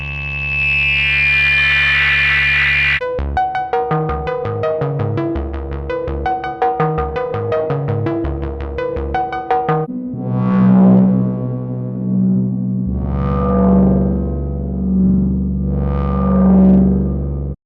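Spring reverb patched in an unusual position on a modular synthesizer, giving a noisy wash that turns into rapid buzzing, chattering pulses, then slow resonant swells with a drone beneath, loud and continuous with no voices.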